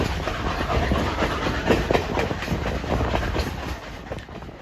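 Two Grand Canyon Railway steam locomotives, including #4960, labour at full throttle on the climb to the south rim, a steady rumbling train noise with rhythmic rail clatter throughout, loud and continuous.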